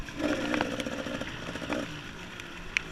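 A two-stroke dirt bike powers up a hill at a Hillbilly GP off-road race with a buzzing, rising engine drone. It is strong at first, then eases and fades slightly further away, with a faint clatter near the end.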